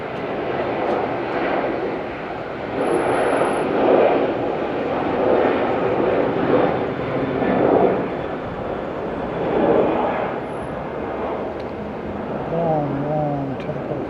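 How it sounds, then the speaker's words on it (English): A Qantas airliner on its takeoff roll at Auckland International Airport, a steady broad engine roar that swells and eases in slow waves, with a voice speaking over it near the end. "Got that Qantas on the takeoff roll."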